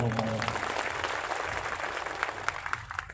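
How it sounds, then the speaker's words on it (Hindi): Audience applause at a devotional music evening held in memory of a folk singer, a steady broadband patter of many hands lasting the whole stretch, moderately loud and with faint voices mixed underneath. "ताली बजाओ एक बार।"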